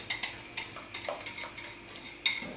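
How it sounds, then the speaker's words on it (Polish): A spoon or whisk stirs a flour mixture into boiling milk in a pot, giving a run of regular light scraping and clinking strokes against the metal, close and clear with no talk. "Mieszamy, aby nam się masa nie przypaliła"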